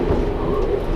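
Steady rumble and rolling clatter of a Pacer diesel railbus from inside the driver's cab, running on a single-track line between Middlesbrough and Grosmont in 1994, continuous and fairly loud with no talk.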